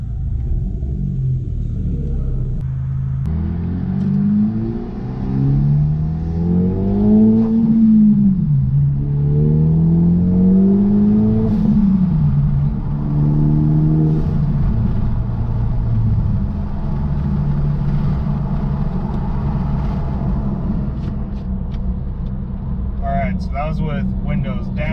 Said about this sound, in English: Gonna go for a little test drive and see what it actually sounds like while we're driving.